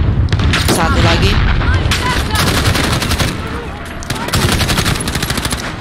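Explosives detonating in Call of Duty: Modern Warfare on a highway mission, a dense barrage of loud blasts and rapid gunfire crackling throughout, with a voice talking over the battle.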